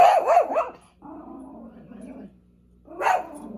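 A young dog barks and growls close by, a burst of sharp yips, then a low rumbling growl, and another loud bark after a short pause.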